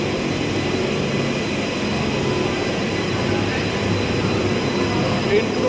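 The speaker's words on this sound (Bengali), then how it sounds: "এই যে মেট্রো আসছে সামনে থেকে" A Kolkata Metro train approaching a station on the Dakshineswar to Airport line, heard as a steady, loud, broad rumble and whine of the rolling train that holds through the whole stretch, with a voice talking over it.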